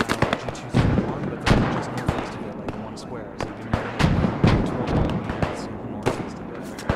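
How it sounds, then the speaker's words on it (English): Friendly mortar shells land during a night assault on Arnhem in a World War II shooter game, a run of sharp booms and cracks at irregular intervals over constant battle noise, with players talking over the impacts. "we have friendly mortars coming in"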